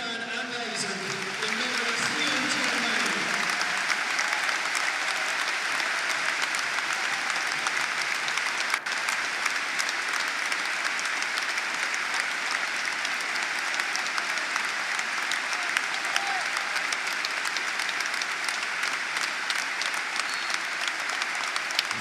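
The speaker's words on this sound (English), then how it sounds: "So applause rings around Ashton Gate" Sustained applause from a football crowd fills Ashton Gate, home of Bristol City, in a tribute before a Championship match against Leeds United, a broad steady roar of clapping lasting throughout.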